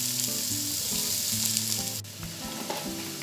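Chopped onions fry in a pot of mixed olive and vegetable oil, a steady close sizzle that continues without any talk.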